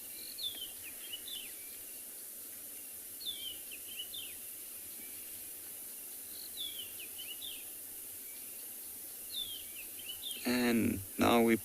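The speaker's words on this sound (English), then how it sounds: "If you do listen to the birds calling in the background" Birds call and chirp in the South African bush at morning, short bright phrases repeating every few seconds over a steady insect hiss, with a louder burst of calling close by near the end.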